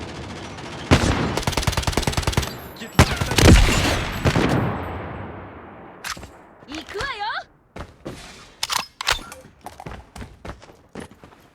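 Shotgun and other gunfire in the mobile shooter game Call of Duty Mobile, with rapid bursts of shots early on, then scattered single blasts and thuds, and a voice heard at moments.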